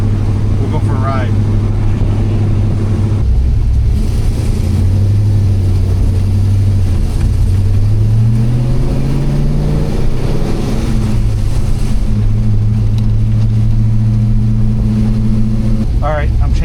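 Car engine with a Holley Terminator X fuel-injection tune and drive-by-wire throttle, paired with a Tremec TKX manual transmission, droning steadily while driving as the revs rise, fall and climb again through gear changes, with a person talking over it.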